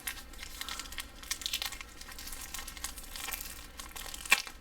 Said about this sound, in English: I'm trying to cut lightly to go through the label and not the plastic itself